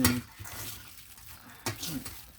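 Mushroom and mackerel larb being tossed together in a bowl, with soft clinks of a utensil against the dish and a couple of brief scraping stirs, fairly close.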